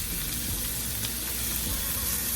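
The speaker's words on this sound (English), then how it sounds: "So you're going to let this saute." Zucchini and onions sautéing for hibachi give off a dense, continuous frying sizzle with faint stirring scrapes, close and steady throughout the brief moment, with no voices.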